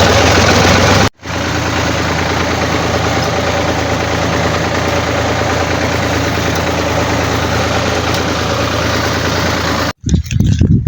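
A tractor engine idles steadily, loud and close, running for about nine seconds between brief cutouts near the start and the end, with no one talking over it.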